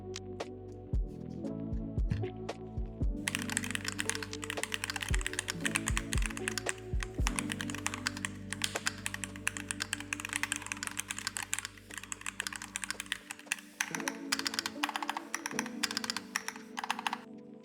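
Steady, brisk typing on a heavy aluminum MelGeek MADE68 Pro HE mechanical keyboard, with crisp, dense clacks heard up close and a few heavier key thocks near the start.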